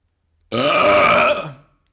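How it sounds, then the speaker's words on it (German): A single loud, close burp lasting about a second, starting abruptly and trailing off, with no talking around it. "Das ist dein Rülpser?"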